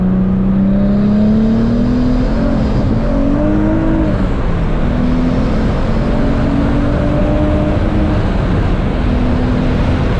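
A twin-turbo Nissan 350Z engine pulls hard under acceleration, loud and close with a droning tone that rises, dips briefly where power cuts out, then climbs again.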